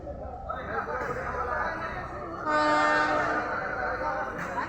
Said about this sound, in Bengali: লালমনিরহাট রেলওয়ে স্টেশন, মাশাআল্লাহ, অনেক সুন্দর।